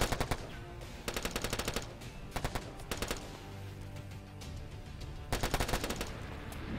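Machine gun fire rattles in rapid bursts during a Warfare Online firefight, several loud clusters of shots separated by short lulls, with faint background battle noise between them.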